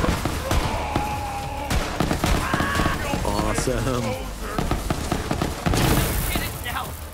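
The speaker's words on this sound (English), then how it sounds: "Explosions all over the place." Explosions and gunfire in the video game Borderlands 3, with booms and rapid shots layered densely throughout and a louder blast near the end, under someone talking excitedly.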